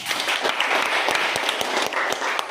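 Classroom pupils clap for a classmate who has just answered about leaf shapes, a dense burst of many small hands filling the room steadily from start to finish with no voices over it.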